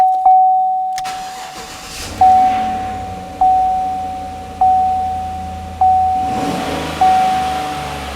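Chevy Silverado truck engine cranking and firing up near the microphone, then settling into a steady low idle, with repeated chime tones sounding at regular intervals.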